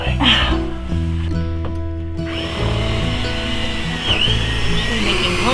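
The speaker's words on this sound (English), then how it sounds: "So we're gonna have to drill it out" A power drill bores holes through the floor of an old-school van during a build. The motor whines steadily in loud, close bursts, with the pitch shifting as the bit bites in.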